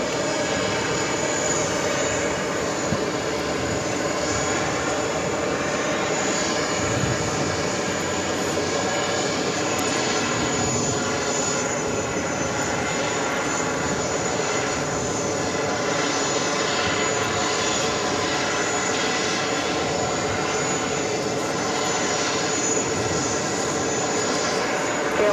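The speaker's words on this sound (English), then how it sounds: "KLM, flight coming in from Amsterdam, just arriving on 22 left." A KLM airliner arriving from Amsterdam lands on runway 22 left at JFK, its engine roar a steady, broad wash heard from a distance that holds level for the whole stretch.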